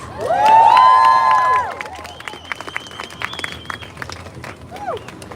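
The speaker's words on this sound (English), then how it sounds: "Hala Barma Omar, give her a very big applause" A crowd at a protest in Amsterdam applauds and cheers for a Sudanese speaker, a loud burst lasting about two seconds before fading into light murmur and scattered noise.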